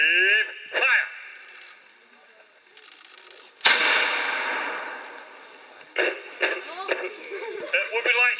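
A re-enactment cannon fires with a gunpowder fuse at Sherwood Forest's Major Oak: one sudden loud blast, then a long rumbling decay, with voices talking before and after.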